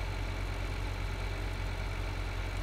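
A tractor engine in the video game Farming Simulator 2013 idles and drones in a steady, unbroken low rumble, alone and fairly quiet throughout.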